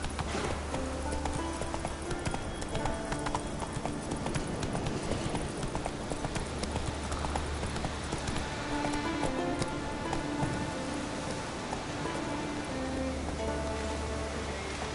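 A horse galloping in The Witcher 3: Wild Hunt, with steady rhythmic hoofbeats clip-clopping continuously over a rain-like hiss, fairly quiet and moderately near.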